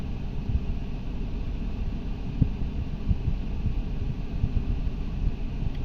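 Steady low rumbling cabin noise with a constant airy hum inside a Perodua Axia E with the air conditioning blowing, continuous and moderately loud with no talking.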